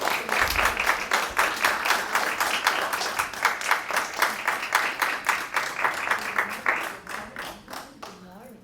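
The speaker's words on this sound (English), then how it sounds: "maybe we could this time give them a round of applause for working through the night, our panel of jurists" An audience in a tribunal hall applauds a panel of jurists with sustained, steady clapping that fades toward the end.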